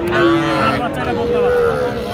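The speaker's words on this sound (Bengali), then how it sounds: "তবে একটা ষাঁড় বাচ্চা একটা বকনা বাচ্চা" Young cattle calves, a bull calf and a heifer calf, at a livestock market for small farm calves in Aftabganj, lowing in a long, loud, drawn-out moo that rises and holds, close by with market noise behind.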